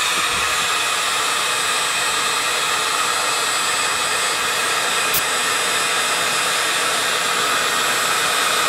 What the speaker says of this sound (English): These annoying stickers will come off easily with the help of a heat gun